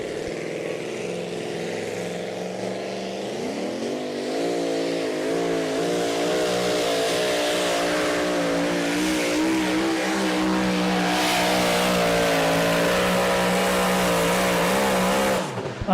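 Pulling tractor Sledgehammer roars through a two-wheel-drive class pull, engine note climbing steadily after a short lead-in and holding a loud, sustained howl for the full run before cutting off at the end.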